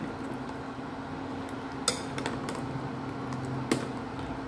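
A utensil stirs an egg into Korean sujibe soup in a pot, giving soft scraping and a couple of sharp metallic clinks over a low steady kitchen hum.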